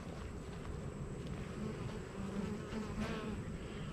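Honey bees shaken inside a jar during a Varroa mite check give off a steady, close, dense buzzing drone that holds throughout without pauses.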